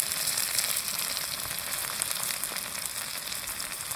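Whole garam masala, black cardamom, cloves, cinnamon, whole chillies and green cardamom, crackles in hot oil with a dense, even sizzle that stays loud and steady throughout.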